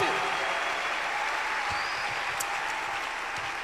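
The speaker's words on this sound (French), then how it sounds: "Clap your hands." Congregation clapping hands in a church service, a steady, moderately loud wash of many hands clapping together throughout, with faint voices mixed in.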